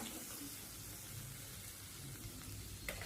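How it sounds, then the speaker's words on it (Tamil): Chopped onion and curry leaves sizzle steadily in hot oil in a pan, a soft continuous frying hiss with no talk over it. "அது கூடவே ஒரு கொத்து கருவேப்பிலையும் சேர்த்து இதை நல்லா எண்ணெயிலே வதக்கிக்கோங்க."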